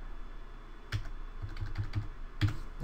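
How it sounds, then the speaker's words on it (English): Arrow keys on a computer keyboard are tapped in short, irregular clicks, a few single taps and small bursts, close and crisp over a quiet room hum. "I'm just using my arrow keys and I'm cursoring"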